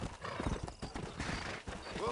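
Horse in the video game Red Dead Redemption, with hoof clip-clops and a brief whinny near the end, heard under ongoing game noise and someone talking.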